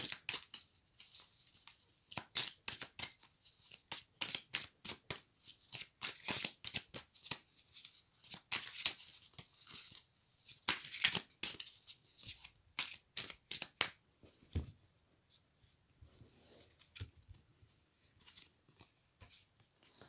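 A deck of oracle cards is shuffled close up, with rapid riffling bursts and flicks repeating for about fifteen seconds before the sound thins out to a few sparse card taps, and there is no talking.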